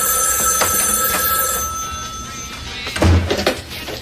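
Telephone ringing in a 1993 audio drama tied to The Maxx comic, with repeated bright electronic rings through the first half over a low ambient bed, then a louder thump and a shuffle of movement as it stops.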